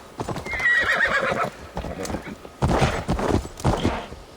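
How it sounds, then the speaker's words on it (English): Horse from the Assassin's Creed Valhalla video game, its hooves clip-clopping in a quick run with a whinny and snorting over varied bursts of game effects across the few seconds. "es el caballo que hace parkour"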